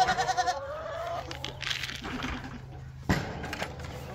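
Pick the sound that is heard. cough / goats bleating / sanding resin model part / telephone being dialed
goats bleating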